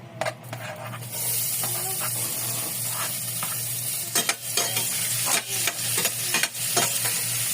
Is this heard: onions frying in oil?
yes